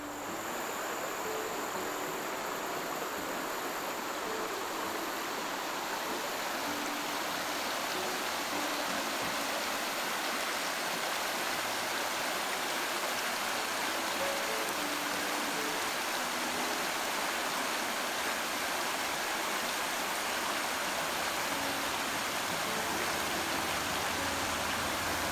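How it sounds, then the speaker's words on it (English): Outdoor stream flowing steadily with insects and crickets chirping throughout, a continuous soft wash of water and bug noise in natural surroundings, no talk. "you can hear the animals, the water, the bugs"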